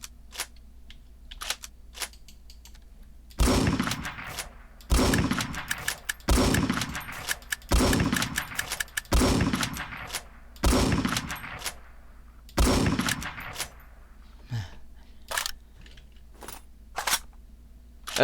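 Gunfire hitting a base in the Roblox-style game War Tycoon, a series of about six evenly spaced loud shot bursts amid scattered clicks, with no speech.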